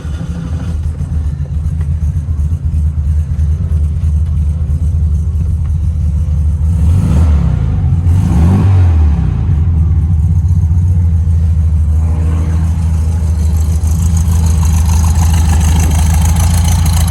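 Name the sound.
1970 Volkswagen Beetle engine revving and idling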